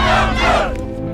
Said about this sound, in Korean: 남한으로 무사귀환한 서명준은 국민들의 열렬한 환호를 받게 되고